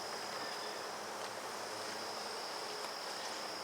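A steady, dense insect drone around a feral beehive more than 18 years old, continuous and even throughout with a thin high whine on top and no voices.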